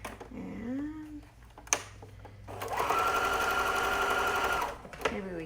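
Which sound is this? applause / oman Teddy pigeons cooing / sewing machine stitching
sewing machine stitching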